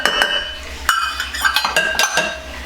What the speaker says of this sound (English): I'm going to whisk them around for just a second here just to mix it together